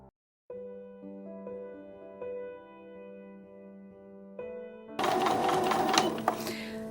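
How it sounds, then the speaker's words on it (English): A sewing machine stitches a seam on a Diamond Star quilt block, starting with a steady humming whir and ending in a louder, busier run of stitching. "So I'm just going to sew down this line on the right hand"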